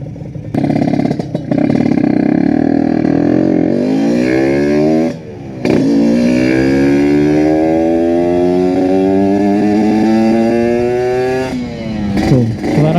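A Kawasaki Ninja RR motorcycle engine revs hard and loud, pitch climbing steadily over several seconds with a brief dip before rising again.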